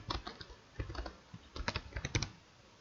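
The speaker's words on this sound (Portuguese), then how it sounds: "digitei aula de Word" Quick bursts of keystrokes on a computer keyboard while entering text in Microsoft Word, irregular clicks with short pauses, close and fairly quiet, with no voice.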